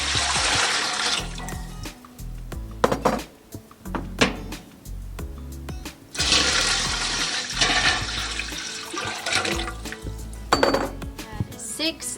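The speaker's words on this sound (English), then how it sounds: "So now I'm going to add 1 gallon of water." Water splashes and pours in uneven bursts into quart jars while canning okra, with glass and metal clinks and a few thuds mixed in.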